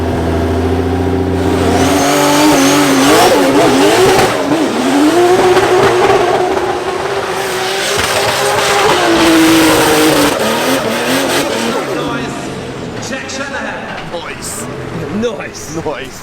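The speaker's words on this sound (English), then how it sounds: "coming to the line for their first qualifying run is current championship leader Jack Shanahan" Drift car on its first qualifying run at a Drift Masters event in Germany, engine revving hard and loud with rising and falling pitch and tyre squeal throughout, a commentator talking over the roar.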